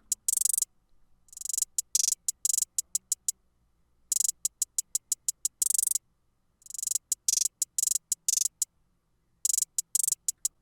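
Programmed hi-hats in a hyperpop beat play alone: quick rolls and stuttered runs of bright ticks alternate with single hits and short silences, looping in a jittery, shifting pattern.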